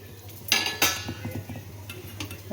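A lid comes off a cooking pot with two quick metallic clinks close together, followed by faint clatter and soft background kitchen noise, moderately quiet and with no talking.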